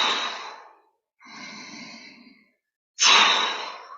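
Deep, airy breaths during qigong reverse breathing practice: a long breath, a softer, more tonal one, then a loud, close inhale, with short silent pauses between them and no talking.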